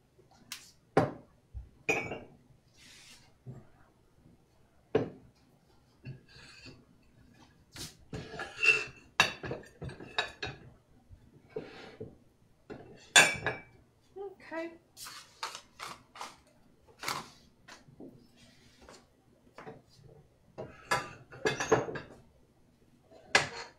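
Polish pottery stoneware dishes, including Manufaktura muffin pans in a Flowers on the Lake pattern, clink and knock as they are handled, giving a rapid, uneven run of sharp ceramic taps close by while a person talks throughout.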